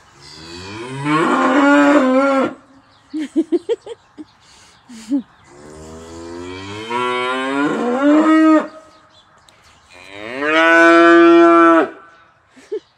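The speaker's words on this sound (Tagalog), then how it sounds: "Ito yung mga baka nila dito." Cattle moo loudly three times, long drawn-out calls nearby, separated by brief pauses with a few short snorts or grunts between them.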